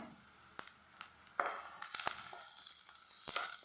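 Onions and green chillies with mustard seeds, cumin and fenugreek frying in a pan for a drumstick curry, giving a soft, steady sizzle broken by a few sharp stirring clicks and scrapes, with no voices.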